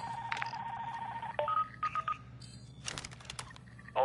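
Electronic tones from a hacked contract phone in the game DMZ: a steady mid-pitched beep, then short chirping and warbling signal bursts with a crackle of static, all fairly faint over low background hum.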